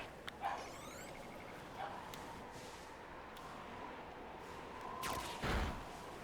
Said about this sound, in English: You hear that barking?